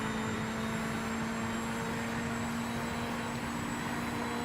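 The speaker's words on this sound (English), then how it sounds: "I hear the throttle" A steady engine drone of a race car in the racing video game Project Motor Racing, holding a constant throttle note, loud and unbroken with no voices.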